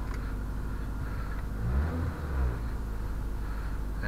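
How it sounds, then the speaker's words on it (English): A 1986 Honda CRX Si with an aftermarket exhaust idles at a low, steady rumble, swelling briefly in a couple of soft blips before settling again. "You can hear the aftermarket exhaust that was on there when I bought it."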